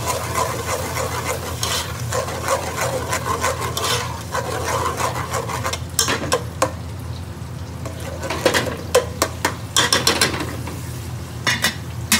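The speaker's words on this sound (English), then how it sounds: "Now I'm going to throw in the grated onions." Grated onions sizzling in hot oil while being stirred, with a steady frying hiss and repeated scraping and rasping strokes of a utensil against the pan.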